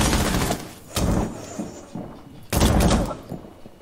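Gunshots ring out in a shooter video game: two loud, sharp bursts about a second and a half apart, each trailing into smaller reports, with quieter game noise in between.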